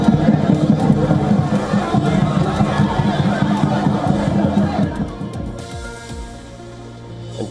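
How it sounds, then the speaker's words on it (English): A large crowd of spectators cheers and roars at the Hong Kong Dragon Boat Race during the annual Dragon Boat Festival, a loud dense wash of voices that thins and fades toward the end. "Cheering spectators and Dragon Boat Race teams roar to life as Hong Kong celebrates its annual Dragon Boat Festival"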